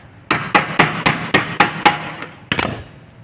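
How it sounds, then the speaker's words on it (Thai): A hammer drives a metal pin while fitting a swing lock, striking eight times in a steady rhythm, each blow loud and close with a short ringing ring, the last after a brief pause. "เราใช้ค้อนตอกไปครับ"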